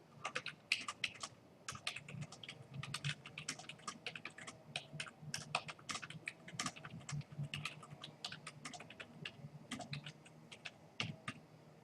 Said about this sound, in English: this is where you get to type in the content